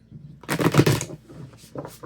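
A deck of cards is shuffled up close: a dense riffling burst, then a shorter flutter of cards a moment later, with no talking.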